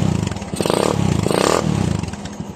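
A motorcycle fitted with a stainless 304 exhaust pipe revs in two strong surges over a steady, throbbing idle, loud and close, with no talk.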